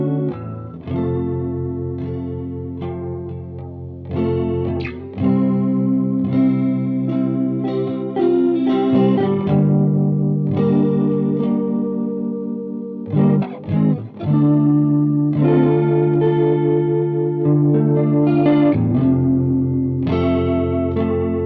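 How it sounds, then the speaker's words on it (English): An electric guitar runs through a very short delay with feedback, set at about 20 to 30 milliseconds, which gives a shimmering chorus sound. Chords and single notes play steadily for about twenty seconds with brief gaps, with no talking. "we want to have a really fast delay time, about 20 to 30 milliseconds, so that the delay is not really audible, and then we get this beautiful chorus effect"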